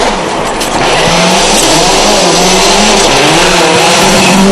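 A WRC rally car in Sweden, fitted with tyres carrying nearly 400 tungsten studs, runs hard over snowy ice; a loud, continuous engine roar with rising revs and grinding tyre noise fills the whole stretch without pause.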